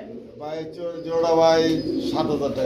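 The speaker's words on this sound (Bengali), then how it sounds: "অনেকদিন পরে দেখলাম জলিল ভাইয়ের কাছে ড্রাগন কবুতর" A dragon pigeon coos nearby in soft, throaty rolling phrases that swell and fade over a few seconds, against a faint background murmur.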